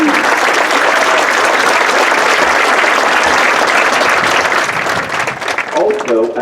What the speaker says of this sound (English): How about a round of applause for the freshmen and rookies?